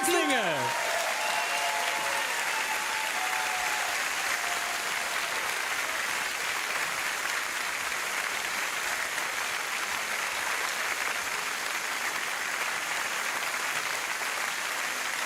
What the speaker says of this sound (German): Euer grossartiger Applaus.